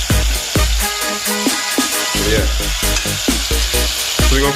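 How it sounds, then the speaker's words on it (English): Chicken pieces fry in hot oil for a Jamaican-style chicken chop suey with cabbage, giving a loud, steady sizzle broken by repeated clanks of a utensil stirring or turning the pieces in the pan. "So we're gonna fry these for like"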